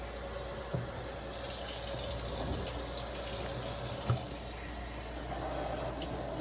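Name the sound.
water running from tap, rinsing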